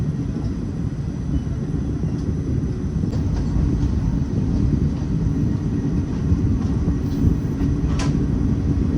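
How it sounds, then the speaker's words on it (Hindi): A train approaching a station in India near Gondia Junction, heard as a continuous low rumble and mechanical drone that stays steady and fairly loud, with occasional faint clicks on top. "सामने से कोई ट्रेन तो दिख रहा है आते हुए"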